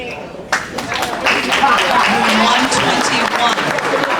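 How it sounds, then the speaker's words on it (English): Round of applause from an audience at a 2006 school awards ceremony at Metcalfe Academy in Chicago, steady broadband clapping through most of the moment with voices mixed in. "Round of applause."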